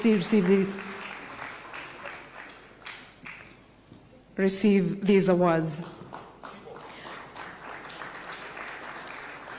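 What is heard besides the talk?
applause for award recipients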